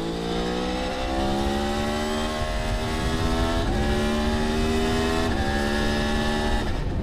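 A Yamaha MT-10 SP 2024 motorcycle engine revs hard past 6,000 rpm, loud and close, with the pitch climbing steadily and two brief dips, like gear changes, before it pulls up again.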